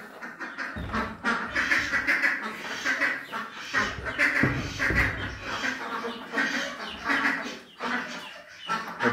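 Several ducks quack repeatedly in loud, overlapping bursts nearby, with brief pauses between calls.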